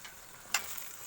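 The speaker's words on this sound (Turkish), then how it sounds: "Tam, tam kaynıyor." Maraş pepper pickle brine at a rolling boil in a pot with garlic added, a soft steady bubbling hiss with a brief louder burst midway, close and alone without talk.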